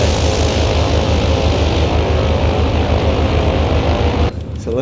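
Twin propeller engines of an Islander BN-2 taking off from Sandown in MSFS 2024, a loud steady droning buzz with pulsing throb that holds constant, then drops slightly near the end.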